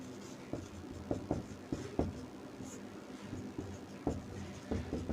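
Chalk or pen tapping and scratching on a board as a teacher writes chemistry notes, a steady series of short strokes and taps at close range with no talking.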